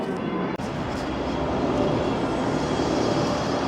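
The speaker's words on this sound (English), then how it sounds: "planes are landing at Heathrow, coming over the town of Richmond here" Airliner passing overhead on approach to Heathrow above the town of Richmond, a steady, loud broadband roar that fills the whole clip without any talk.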